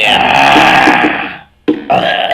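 One loud, close burp rumbles out right after chugging a can of Boothbay Craft Brewery 10 Lewis Session IPA. It breaks off into a short silence, then a second gassy burst follows.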